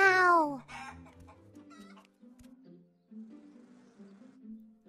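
Hens on a farm give a series of soft, close clucks and low murmuring calls, opening with a brief higher squawk, then scattered quiet clucking with gaps between.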